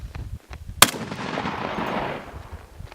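One sharp, loud gunshot on a shooting range lane, followed by a booming reverberant tail that slowly fades, with faint background noise before the shot.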